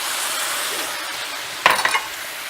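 Shrimp stir fry sauce poured into a hot pan sizzles in a short, sharp burst with a quick clink or two, following a steady hiss of frying before it.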